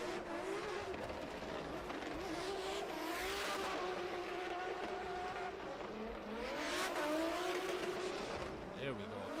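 A drift car at the Oman International Drift Championship qualifier rounds the last corner, its engine screaming with rising and falling revs and tires squealing, loud and sustained under a commentator talking.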